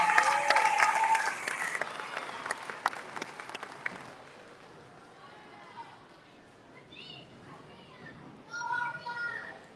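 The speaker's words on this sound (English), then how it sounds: "Give these students a big round of applause." Loud applause and cheering for students at a school award ceremony, strong for about four seconds, then fading into quieter room noise with children's voices chattering.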